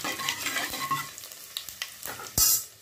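Curry leaves, cumin and dried chillies fry in oil for sambar with a soft sizzle, broken by scattered stirring scrapes and a sharp, loud crackling burst near the end.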